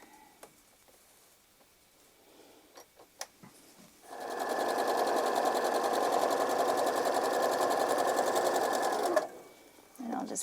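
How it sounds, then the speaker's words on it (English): A sewing machine stitches a quilt along the lines of an X, starting after a few soft clicks and handling noises and running as a steady, fast, close whir for about five seconds before stopping abruptly. "I'm going to sew on both lines of the X"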